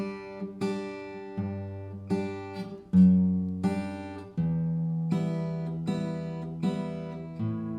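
A fingerpicked acoustic guitar plays one line of a song, with plucked notes ringing alone in a slow, steady pattern of clear, sustained tones.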